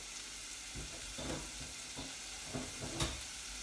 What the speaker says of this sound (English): vegetables in there, sweating off